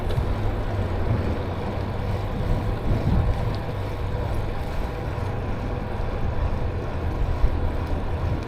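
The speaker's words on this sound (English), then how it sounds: "Kind of windy." Steady wind roars and buffets the microphone throughout, a constant low rumble with no talking.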